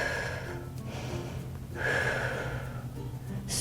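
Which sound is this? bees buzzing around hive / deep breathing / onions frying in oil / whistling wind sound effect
deep breathing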